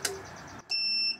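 A Hysolis MPS3K 4.5kWh power station starting up: a short electronic chirp, then a steady high-pitched beep tone holding for about half a second, close and clear.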